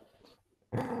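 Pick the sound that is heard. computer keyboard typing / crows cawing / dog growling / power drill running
dog growling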